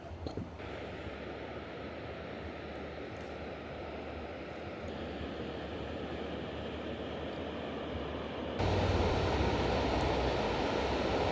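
Steady broadband rush of water in the Hantan River basalt gorge near a waterfall, heard as a continuous roar that swells louder toward the end.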